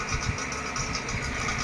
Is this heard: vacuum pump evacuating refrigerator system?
yes